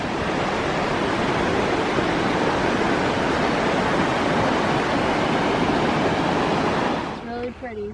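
River water rushes steadily near a bridge on a canyon hiking trail in Ouray, a loud broadband roar that drops away near the end as a voice briefly speaks.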